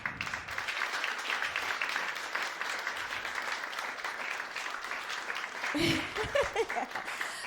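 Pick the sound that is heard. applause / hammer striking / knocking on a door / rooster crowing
applause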